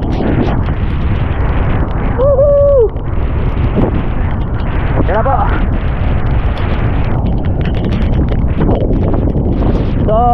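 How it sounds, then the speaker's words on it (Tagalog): Strong typhoon wind roars steadily and loudly against the microphone, while voices shout and cheer over the gusts. "Ang lakas kasi ng hangin."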